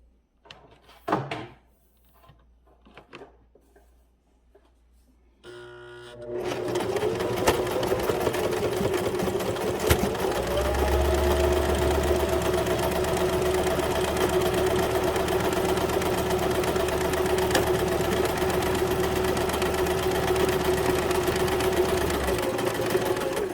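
A sewing machine stitches quilt squares together, running in a fast, continuous whir after a few quiet handling clicks and taps at the start.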